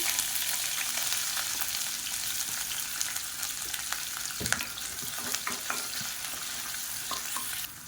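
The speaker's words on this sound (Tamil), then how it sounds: "இப்போ எண்ணெய் நல்லா சூடானதும் 1 கை அளவுக்கு நீளமாக நறுக்குன வெங்காயம் சேர்த்துக்கலாம்." Long-sliced onions frying in hot oil in a pan for a tomato rice and egg thokku, a steady close sizzle with occasional stirring scrapes and clicks throughout.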